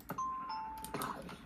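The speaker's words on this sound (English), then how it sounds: "Doorbell works still." A video game doorbell rings once as a clear two-tone chime, fairly quiet and close, alone without talk.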